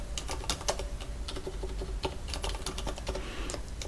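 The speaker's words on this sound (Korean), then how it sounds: "제4작업이라고 타이핑" Rapid, steady keystrokes on a computer keyboard, close and fairly loud, with irregular clusters of clicks running continuously, no talking.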